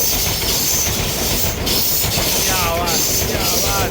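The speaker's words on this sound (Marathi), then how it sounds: "वंदे भारत आली, वंदे भारत" A Vande Bharat express train rushes past at a crossing, heard from a halted train: loud continuous roar and rattle with clattering wheels and a rising metallic screech of grinding wheels.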